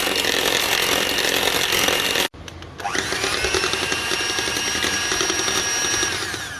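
Electric hand mixer whirring steadily as eggs are beaten with sugar for a Black Forest cake batter, a loud continuous motor drone with a brief pause before it starts up again.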